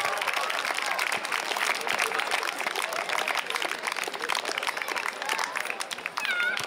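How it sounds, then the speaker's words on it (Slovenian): Audience applause for a school class at a student initiation event in Šentvid, dense steady clapping and cheering from a crowd that stays loud throughout, with a few shouts near the end. "En aplavz."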